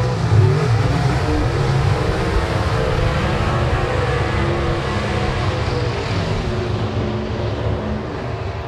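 Pro Stock drag racing cars at a qualifying session, several engines roaring together in a dense, steady, loud wall of sound that holds throughout without a break.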